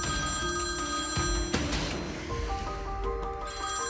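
A telephone rings with an incoming call, producing a bright electronic ringtone of repeated warbling tones that changes pattern midway, heard clearly over a quiet indoor background.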